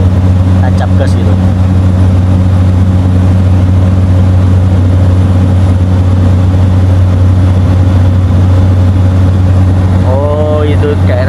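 A Susi Air small passenger plane's engine drones steadily and loudly in the cabin during a flight from Yogyakarta to Karimunjawa, a constant low hum with a faint rise, while a person talks over it.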